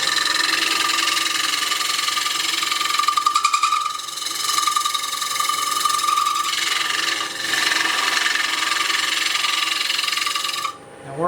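Face-turned wooden bowl spinning on a wood lathe while a scraper works the inside walls, a steady close whirring hum with a bright scraping tone that dips briefly and cuts off at the end.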